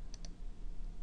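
Computer mouse left click while working in Blender, two quick faint clicks close together over low background hum.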